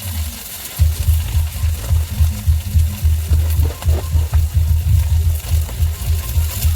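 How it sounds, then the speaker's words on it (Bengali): Washed cabbage frying in hot oil in a wok gives a loud, continuous hiss over a rhythmic series of low thumps, like the pan being worked steadily. No one speaks. "এবারে এই যে বাঁধাকপি দিয়ে দিলাম কড়াইয়ের মধ্যে, তেল দেওয়া হয়ে গেছে"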